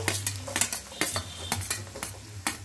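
Chopped onions frying in hot oil in a pan, a steady close sizzle broken by repeated scraping and stirring clatters of a utensil against the metal.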